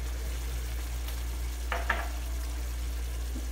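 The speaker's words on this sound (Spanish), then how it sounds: "Le voy a echar simplemente un chorrito de agua" A small splash of water goes into a pan of sizzling keto bolognese sauce. A steady close frying hiss is broken by a couple of brief bursts of spitting as the water hits the hot pan.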